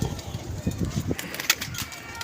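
Pigeon held in hand at a pigeon club, with soft low cooing and rustling, wing-flap bursts, and a voice talking nearby.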